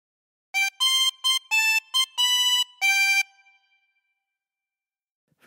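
Tremolo harmonica plays a short Pop Goes the Weasel phrase of seven quick, wavering reedy notes, the last one held and fading, close and alone, then silence.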